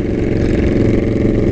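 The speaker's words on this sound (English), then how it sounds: "It's got a very loud aftermarket exhaust on it." Motorcycle fitted with a very loud aftermarket exhaust, engine running steadily with a deep, throaty rumble close by, loud and continuous with no talk over it.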